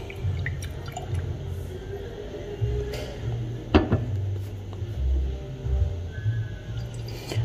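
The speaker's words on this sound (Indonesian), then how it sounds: "Kita aduk dulu." A spoon stirs cold drip coffee made from Ethiopian Refisa beans, giving soft liquid swishes and occasional light clinks against the vessel, close and quiet with no talking.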